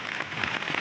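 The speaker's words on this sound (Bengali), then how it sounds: "কি বৃষ্টি হচ্ছে, হাওয়াও দিচ্ছে" Steady rain patters down on surfaces outdoors in a dense, continuous wash of drops, close and fairly loud, with no voices.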